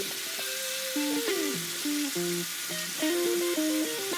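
T-bone steak browning in a hot cast iron skillet, a steady close sizzle and crackle throughout with tonal music notes playing over it, no talking.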